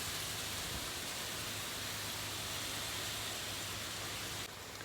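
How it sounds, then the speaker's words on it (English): Hail falls as a steady, dense hiss of rain-like patter on outdoor surfaces, fairly faint and unbroken, with a slight drop in level near the end. "Seriously, it's hailing."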